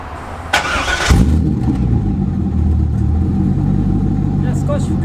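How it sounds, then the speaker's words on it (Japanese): Supercharged 2000 Chevrolet C5 Corvette coupe, a custom car, starts with a sharp crack of noise and settles into a loud, close, rumbling V8 idle with a slight rise in revs. Voices talk briefly underneath. "じゃあちょっと排気音聞いてみます。"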